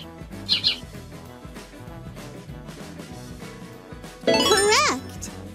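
A bright cartoon bird chirp sound effect in a kindergarten math game sounds as a short burst of tweets, loud and close, following a brief jingle over a steady music bed, with a narrator's voice around it.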